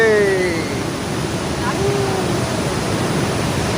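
Loud continuous roar of rushing water at Bhatinda waterfall, a broad steady wash heard close, with people's voices faintly over it.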